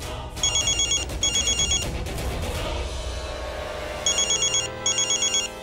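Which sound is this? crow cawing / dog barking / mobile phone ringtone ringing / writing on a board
mobile phone ringtone ringing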